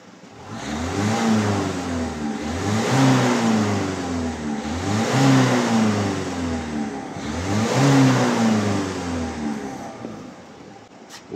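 A Peugeot car engine is held at 3000 rpm for an exhaust emissions test, a steady mid-pitched hum that swells and eases in slow repeated waves at close range.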